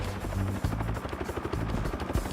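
A Huey UH-1 helicopter flies close by, its rotor beating out a loud, steady chop over a continuous engine drone.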